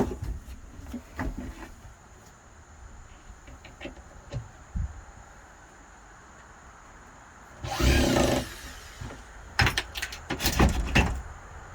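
Screws being backed out of wood aboard a 1980s Rhodes 22-foot sailboat during gutting: quiet handling and clicks, then a loud few-second burst of a power driver followed by shorter whirring bursts near the end.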